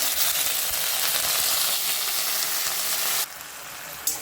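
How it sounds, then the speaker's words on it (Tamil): Eggplant and urad dal fry in groundnut oil with a loud, steady close sizzle that drops off sharply near the end, followed by a single brief clatter. "இது நல்லா வறுபடட்டும்"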